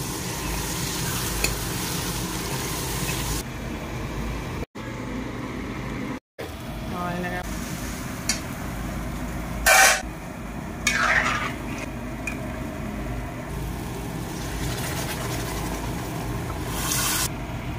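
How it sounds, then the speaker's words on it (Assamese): Water at a full rolling boil in a cooking pot in a home kitchen while a fish and mixed dal meal is prepared, giving a steady, close bubbling hiss with a few brief clinks of utensils. "পানী পূৰা উতলি আছে"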